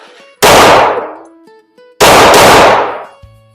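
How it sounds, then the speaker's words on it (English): Two loud, close gunshots from newly acquired firearms fired at targets about 10 yards away, each a sharp broadband blast with a ringing decay, spaced roughly a second and a half apart. "Just shooting at about 10 yards"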